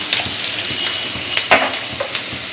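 Onions fry in a pan for a home-made potato kurma, a steady close sizzle with a few sharper crackles and utensil scrapes popping through.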